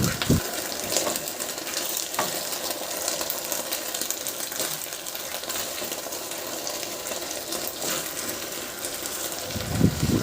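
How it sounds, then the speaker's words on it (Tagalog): Fried talakitok fish goes into a boiling sweet and sour sauce in a pan, giving a steady, fizzing bubble and simmer hiss with a couple of soft clunks. "Pagkakulo ng sauce, isunod ko na rin ilagay yung pinirito nating talakitok."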